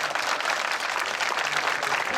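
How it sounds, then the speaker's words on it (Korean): Crowd applause and cheering at an outdoor rally speech, a dense steady wash of many hands clapping that holds at an even, loud level throughout with no break. "한 번 더 크게 박수 쳐주십시오."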